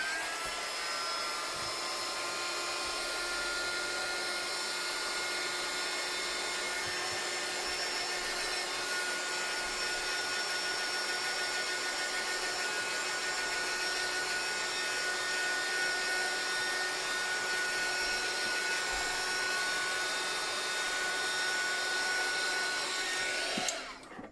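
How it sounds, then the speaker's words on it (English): A crafting heat blower runs continuously while blowing excess colour off a handmade journal page, a loud steady whirring hiss that holds unchanged for over twenty seconds and then cuts off, with no talk. "I'm going to put my blower on just for a couple of seconds, just to get the excess off of there."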